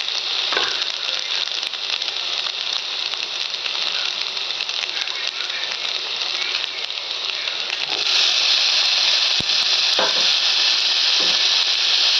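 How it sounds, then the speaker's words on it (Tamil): Ginger garlic paste frying in oil in a pan for fish gravy, a steady loud sizzle with occasional spoon stirring scrapes, close and continuous, growing slightly brighter toward the end. "இஞ்சி பூண்டு வந்து பச்சை வாசனை போகிற வரைக்கும் நம்ம வந்து இந்த மாதிரி வதக்கிட்டே இருக்கணும்."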